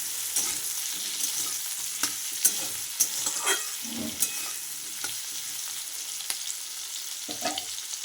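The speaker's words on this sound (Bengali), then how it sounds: "এখানে আমি এখন আলু ভাজা করছি মায়ের জন্য, ছোট আলু" Small potatoes salted without turmeric fry in a wok over low heat, a soft steady sizzle broken by repeated scraping and clinking stirs of a spatula, no voices.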